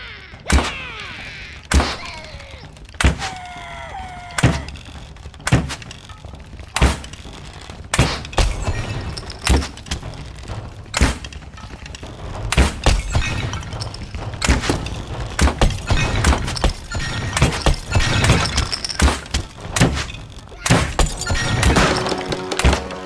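Archery bow shots in The Lab VR game, a sharp thunk-like release or impact repeating about every second or so, fairly loud and close, with no talking.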